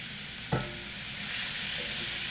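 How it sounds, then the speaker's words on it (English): A sudden thump as seasoned fish hits a hot pan for blackening, followed by a steady, loud hiss of searing oil that continues unbroken. "that's what you want it to sound like when you put that fish down in the pan"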